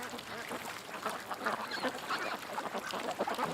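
Several ducks on a deck in windy weather, quacking and honking in quick irregular bursts at moderate distance, with wind noise underneath and no talk.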